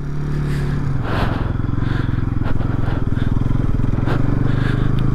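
Motorcycle on a Ladakh road between Durbuk and Pangong Tso, wheels skidding through thick sand with a loud, steady engine drone and gritty scraping throughout.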